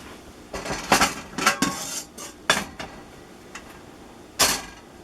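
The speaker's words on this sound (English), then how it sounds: "I'm gonna put this on top of the stove here." A pot of meatballs is set down on a stovetop with several sharp metallic clanks and clinks of cookware, spaced irregularly and close by, with no talking.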